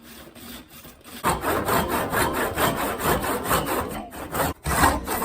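A hand saw cuts through the top of a wooden axe handle on a double-bit axe, with steady back-and-forth rasping strokes, loud and close, starting faintly and then running continuously with brief pauses between strokes.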